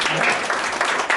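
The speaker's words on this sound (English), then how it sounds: "Let's give them a round of applause." A burst of applause from a crowd, dense clapping filling the short moment at close range.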